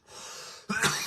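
Coughing after a dab: a strained inhale followed by a harsh, close cough burst, loud and alone.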